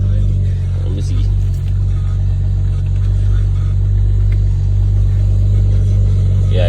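A BMW 535i fitted with a custom intake idles loudly and steadily just after starting, a deep continuous engine hum with a brief blip, while someone talks over it.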